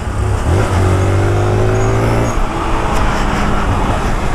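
A yellow 2022 Honda Titan motorcycle pulls away from a Honda dealership, its engine note rising through the revs in a loud, close roar that briefly falls back before revving again.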